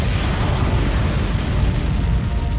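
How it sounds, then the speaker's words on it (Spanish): A deep, sustained explosion effect depicting a gamma-ray burst rumbles loudly and continuously, a dense roaring blast with no distinct start or pause. "Un rayo gamma estalla. Se trata de la explosión más grande conocida en el universo."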